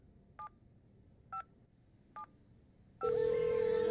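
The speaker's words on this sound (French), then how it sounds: "Téléphone sonne." In the Escape Academy video game, three short telephone keypad tones beep one after another at even spacing, then a loud steady ringing or dial tone takes over and holds to the end, with no voices.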